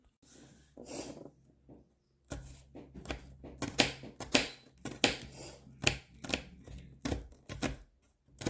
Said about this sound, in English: I've got 9 cloves of garlic, and I'm going to chop these up fine